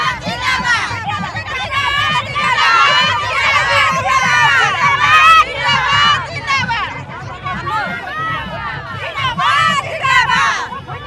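A large crowd of political supporters along a road in Rangandi cheers and shouts, with many overlapping excited voices and whoops rising and falling continuously, loud and close.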